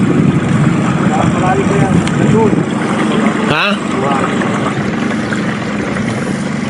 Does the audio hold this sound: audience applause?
no